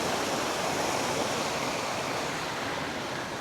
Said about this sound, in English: that's McElmo Creek waterfall